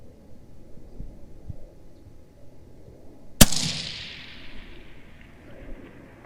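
A single sharp gunshot from a UPR15 gas-operated rifle fired at a 700-yard target, loud and abrupt mid-clip, followed by a decaying outdoor echo over a low background rumble.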